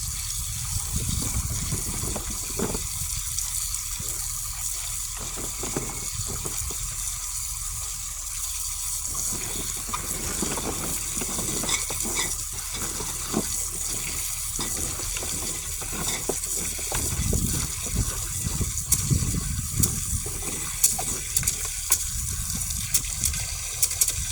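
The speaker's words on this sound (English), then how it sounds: "Gonna rinse them one more time." Carrots for canning are rinsed under running water, a loud, steady gush and splash filling the whole stretch with slight shifts as the flow hits the vegetables and container.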